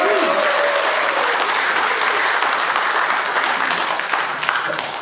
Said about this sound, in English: Big round of applause, please, for our Labour efforts and our Labour team.